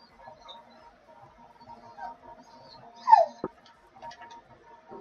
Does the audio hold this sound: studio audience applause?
no